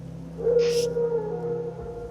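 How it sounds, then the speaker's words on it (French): Wild dogs howl in The Witcher 3, a long sustained wavering tone that carries steadily over a low ambient drone, with a brief hissy burst near the start and no talking. "Des loups? Non. Des chiens sauvages."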